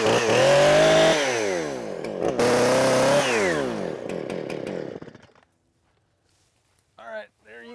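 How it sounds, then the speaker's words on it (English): An old, long-unsharpened chainsaw starts and roars at high revs while cutting a Christmas tree in the woods, surging twice, then winding down and cutting out before a brief voice follows. "See if I can get this old saw started."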